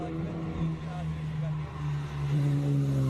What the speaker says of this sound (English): Jaguar gets up and continues up the hill with some confidence.